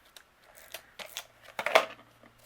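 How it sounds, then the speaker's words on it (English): Tape runner rolling adhesive across card stock to fix twine-like strings on the back of a handmade card, several short crackly zips and rustles, close up and quiet, the last one loudest. "I can actually use my tape runner to adhere these"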